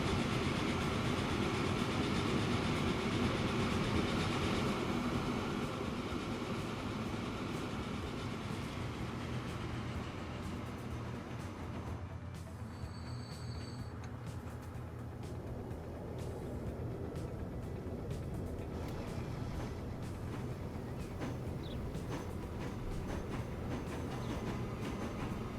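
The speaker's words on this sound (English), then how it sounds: "This is a train that's going to cause traffic jams." Train running in the video game Transport Fever 2, a continuous rolling rumble with faint rhythmic clickety-clack of wagons, moderately loud and steady throughout, with a brief high tone partway through.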